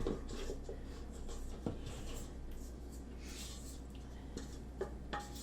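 A cake spatula scrapes creamy, buttery shortbread dough from a mixing bowl, giving soft, repeated rubbing and scraping strokes with a few light clicks against the bowl, close and steady throughout.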